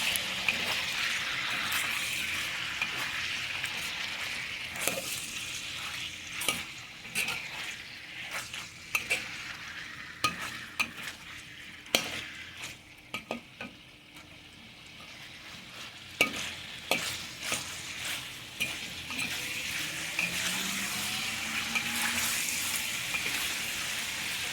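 Pork belly being stirred in a pan with star anise, garlic and onion: repeated scraping stir strokes over a steady sizzle and frying hiss, close and moderately loud, with no talking.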